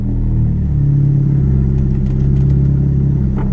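A Mitsubishi Eclipse 2G engine idles loud and close with a steady low rumble, rising briefly as the throttle is opened a little.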